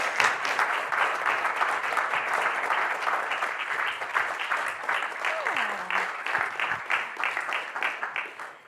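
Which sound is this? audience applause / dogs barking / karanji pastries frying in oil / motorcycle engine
audience applause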